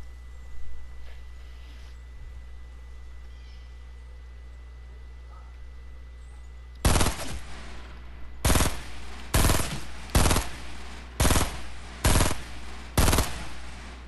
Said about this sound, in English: I'm already hearing gunshots, so you know this is gonna be good.